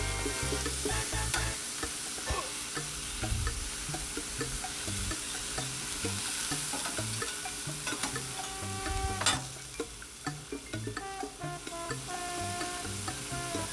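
Chorizo sausages sizzle steadily on a 22-inch Blackstone griddle, a dense, continuous frying hiss with occasional pops and a sharp crackle, close up and alone with no talk.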